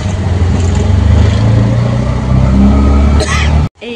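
An auto-rickshaw engine drones close and loud during a city ride after leaving the metro, a low, throbbing hum with small surges of revving and road noise, before a brief cutoff at the end.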